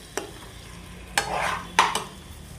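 Fish pieces coated with salt and turmeric are stirred in a pan, giving three quiet scraping strokes with soft rustling between them.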